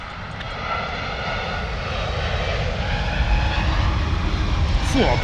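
A Virgin Atlantic Airbus A350 lands at London Heathrow with a loud, steady engine roar and rumble that builds over several seconds, heard from nearby outdoors with no speech.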